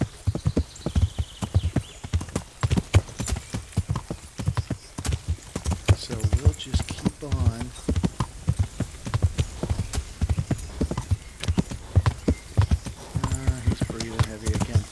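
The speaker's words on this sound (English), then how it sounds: "He's breathing heavy again." Horse hooves clip-clopping at a steady gait in Kingdom Come Deliverance, with loud snorting, heavy breathing and a whinny up close, while someone talks over it.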